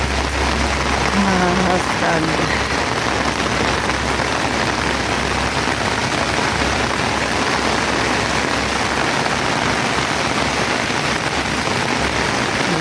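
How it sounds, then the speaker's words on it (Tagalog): Heavy rain pours continuously in Macau in a dense, steady hiss, with a low rumble underneath; a voice speaks briefly near the start. "Ayan ang ulan sa Macau."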